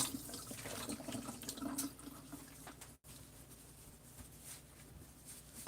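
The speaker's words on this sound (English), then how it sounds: "while we do that, wash my hands." Tap water runs at a kitchen sink during handwashing while baking cookies, a soft, fairly faint steady splash with a brief break midway.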